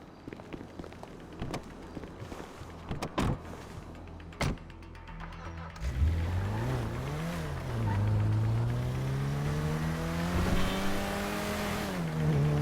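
A car in the GTA V video game starts with scattered clicks and knocks. Its engine then rises and revs steadily for the rest of the clip, loud and close, with no talking.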